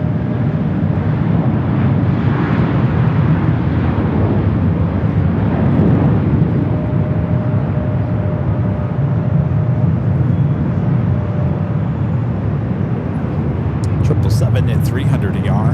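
An Air France airliner bound for Paris roars on the runway at Los Angeles International Airport, a loud sustained engine rumble that holds steady throughout, heard from a distance.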